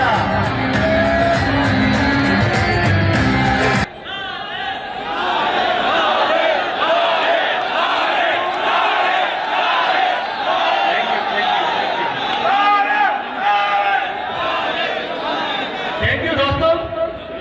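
A loud crowd at an outdoor political rally shouts and cheers. A burst of broad, noisy roaring opens the stretch, then it gives way to sustained chanting and raised voices.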